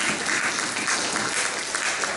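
A live stage audience claps for the police, dense sustained applause that is loud and even from start to finish, with no one talking over it.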